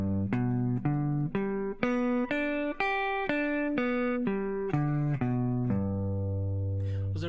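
A guitar plays a scale arpeggio, a single sustained tone stepping up through a run of notes and back down, each one held briefly and evenly spaced, clear and close with no talking.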